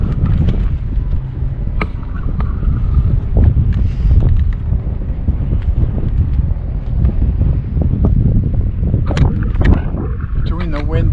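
Wind blows hard across the water during kayak fishing, a constant loud buffeting rumble on the microphone that persists throughout, with a voice talking underneath.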